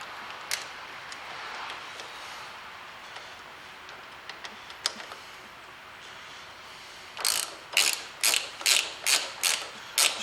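A ratchet wrench tightens the brake plate bolt on a 1979 Citroen CX, first a few scattered clicks and then a quick run of about seven sharp, close ratcheting strokes.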